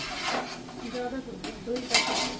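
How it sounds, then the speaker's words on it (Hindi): Mixed vegetables with peas and mushrooms being cooked in a pan: a utensil clatters and scrapes against the pan in uneven bursts, fairly close. "जो मटर डाल चुकी है, ये मशरूम डाल दिए, इतने सारे मशरूम जो थे।"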